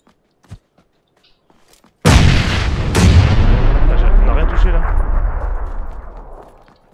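A grenade going off in the battle game PUBG, a sudden loud blast after near silence and a faint earlier pop, its boom rolling and slowly fading over several seconds.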